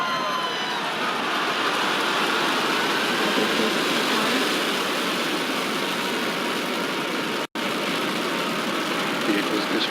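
A SpaceX Falcon Heavy's engines roar after liftoff in a steady, loud broadband rumble that fills the whole span, with one brief dropout near the end.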